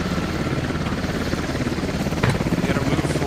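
Enemy helicopter in the video game Squad, flying in after losing its tail rotor: a loud, steady rotor chop and engine drone fills the whole clip, with a brief thump near the end.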